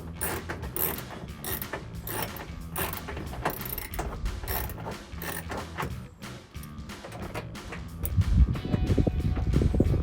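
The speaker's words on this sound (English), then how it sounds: "finishing and tightening up all three 10mm bolts" A hand ratchet tightens 10mm bolts on a rear wheel well inner liner of a 2021-2023 Ford F-150, with rapid, close clicking in continuous bursts, then heavier knocks and creaks near the end.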